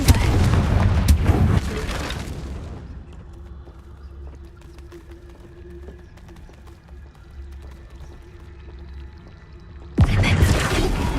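Confringo blasting spell in Hogwarts Legacy, a loud booming blast with a crackling tail fading over about two seconds, a quiet stretch with a faint hum, then a second heavy burst.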